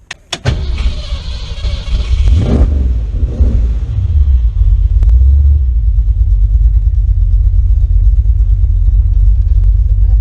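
A 1968 Ford Mustang's engine turns over and catches, then settles into a steady low exhaust rumble that continues close by, with no talking.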